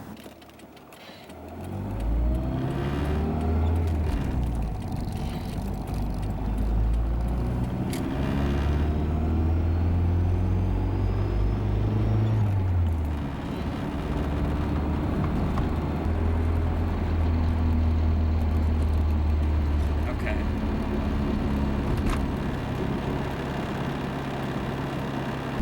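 A 1985 Toyota Celica GT-S RA65 on a test drive after a driveshaft center support replacement, its engine rising and falling in pitch through several gear changes, steady and fairly close inside the car, with no talking.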